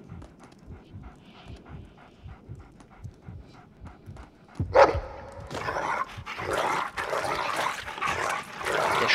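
A dog pants and huffs in the video game A Game of Thrones, quiet rhythmic breaths at first, then a sudden sharp sound and denser, louder panting over game ambience.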